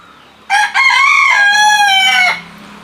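A rooster crows loudly and close by on a poultry farm, one long drawn-out call with a brief break near the start, with no talk over it.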